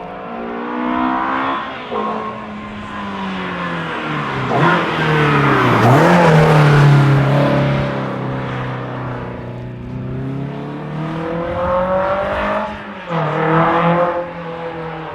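An Alfarrari race car drives hard on a racetrack, its engine loud and close as it revs up through the gears with sweeping pitch rises, falls at the shifts, and sustained high-rpm pulls.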